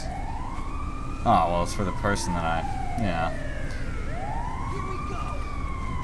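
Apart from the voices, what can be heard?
ambulance siren in video game GTA 5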